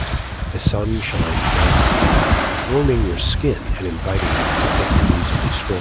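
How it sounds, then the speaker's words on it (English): Surf washes steadily on a secluded sandy beach with a constant roar of waves and wind across the microphone, and a calm voice speaks over it throughout. "where the only sound you hear is the gentle lapping of waves against the shore"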